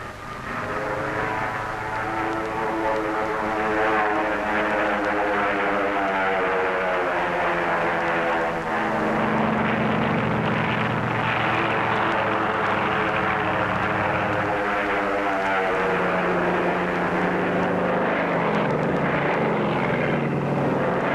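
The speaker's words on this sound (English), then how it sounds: "the drone aircraft are launched and temporarily guided from the carrier until control is picked up by the planes in the air" Propeller-driven aircraft flying continuously, a steady loud engine drone with a shifting pitch as the planes guide drone aircraft launched from a carrier at sea, no talking.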